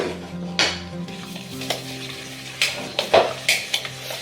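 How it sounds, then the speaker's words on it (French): Egg and sugar are mixed together in a bowl for a simple snack, heard as a handful of quick scraping and tapping strokes close by, with no talking. "première étape, on mélange l'œuf"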